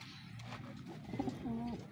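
A soft, low racing homer pigeon coo rises briefly near the end over a quiet background murmur, close and short.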